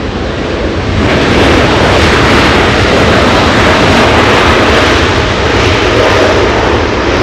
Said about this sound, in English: And now we're getting to see the second Korean Air flight of the day.